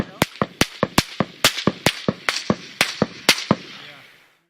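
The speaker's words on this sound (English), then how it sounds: "we hear the supersonic crack of bullets flying overhead and landing very far away" Rapid gunfire crackles in an irregular burst of about fifteen sharp cracks, the supersonic snap of bullets passing overhead mixed with muzzle bangs, loud and close with fading echoes between shots.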